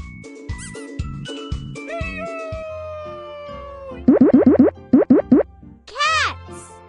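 Cartoon cat meows from the MATH KIDS educational game come in a fast run of short, bright mews, then a few more and a final longer meow, after springy boing effects and a child-like voice speaking.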